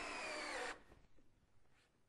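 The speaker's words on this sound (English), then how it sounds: "here's a traditional screw going into AZEC decking" Drill driving a traditional screw into AZEC decking, a loud, close whirring buzz lasting under a second that stops abruptly, leaving a faint tail of small knocks and room noise.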